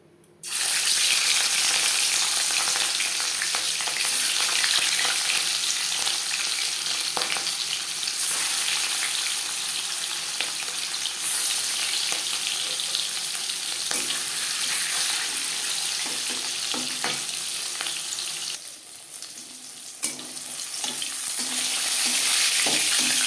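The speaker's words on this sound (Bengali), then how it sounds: "এবার দিয়ে দেব ম্যারিনেট করে রাখা মাছ" Steady, loud sizzling of marinated fish frying in hot oil, a continuous crackling hiss with occasional small pops, heard alone without talk.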